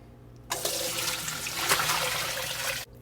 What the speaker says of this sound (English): My colander, and then I'm just gonna pour.